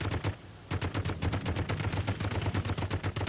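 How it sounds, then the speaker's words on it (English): Rapid bursts of M60 machine gun fire from the Toy Soldiers video game, loud and close, with a brief pause near the start before continuous rattling shots resume. "this video is gonna absolutely have the sound of the machine gun going crazy in the background"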